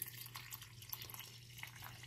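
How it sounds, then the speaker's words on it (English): Water poured from a tap or container into a pot of uncooked rice, a faint, steady trickle with small drips, heard alone and close. "Adding some water in."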